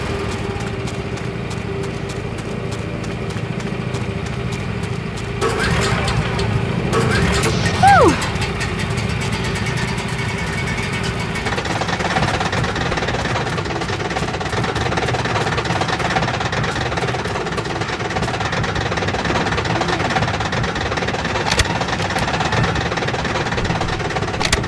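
A generator in Left 4 Dead 2 drones steadily throughout, a continuous mechanical hum with engine-like knocking, joined by brief louder clatter and game noise midway.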